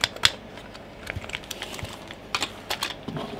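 Plastic keys on a Commodore Amiga 500 computer keyboard being pressed, a run of uneven clicky taps at close range with scattered louder strikes, no talking.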